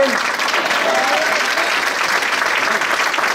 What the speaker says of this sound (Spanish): Y estas palmas son para Él.